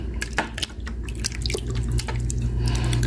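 Homemade liquid laundry detergent gel stirred in a container, wet sloshing and gloopy dripping sounds close by, irregular and fairly loud, building into a steadier liquid churn.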